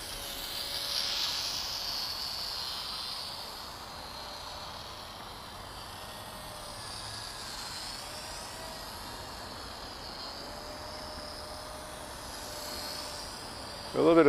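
A WLToys F949 trainer RC plane's small electric motor drones steadily in flight, a thin high-pitched whine holding at an even level for the whole stretch with faint outdoor background and a brief louder burst at the very end.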